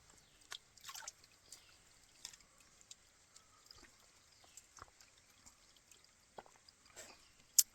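Faint, sparse water drips fall one by one from a rock in a jungle at irregular intervals in a quiet setting, each a soft, brief plink.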